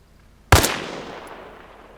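A single loud sniper rifle shot in ArmA Reforger cracks sharply, then its echo rolls away and fades slowly over more than a second.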